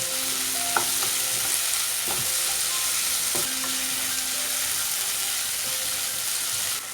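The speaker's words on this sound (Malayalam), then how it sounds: "ഇനി ഇതിലേക്ക് തക്കാളി ചേർത്ത് കൊടുക്കാം. ഞാനിവിടെ 1 തക്കാളി ചെറുതായിട്ട് അരിഞ്ഞാണ് എടുത്തേക്കുന്നത്. ഇതെല്ലാം കൂടി ഒന്ന് മിക്സ് ആക്കി കൊടുക്കാം." Chopped tomato frying in a pan of mutton roast sizzles steadily and close while a spoon stirs it, adding a few soft scraping knocks on top of the constant hiss, with no speech.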